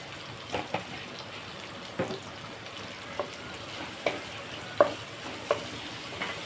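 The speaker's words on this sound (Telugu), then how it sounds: "కొంచెం ఫ్రై చేసుకున్నాము దీంట్లో కొంచెం పసుపు వేసుకుని" A pan of Telugu-style brinjal and ginger curry fries with turmeric and salt. A soft, steady sizzle runs throughout, broken by occasional light scraping taps of stirring.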